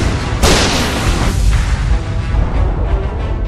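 A tower crumbles in Dota 2, opening with a sharp loud boom followed by a rumbling, crackling collapse that trails off over a few seconds.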